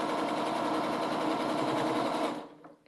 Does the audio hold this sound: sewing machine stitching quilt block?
yes